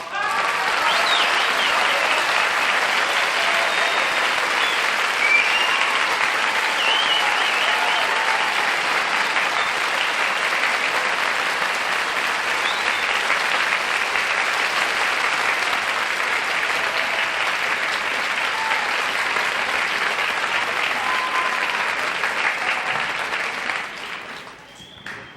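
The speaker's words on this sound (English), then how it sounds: "You can tell from that applause." A television game show studio audience applauds the arrival of a mystery guest on What's My Line, a loud, sustained clapping that holds steady for over twenty seconds before tapering off at the end.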